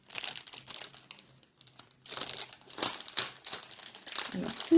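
Small packages wrapped in paper being unwrapped up close, bursts of crinkling and rustling that grow louder and denser, with a voice speaking briefly in the background.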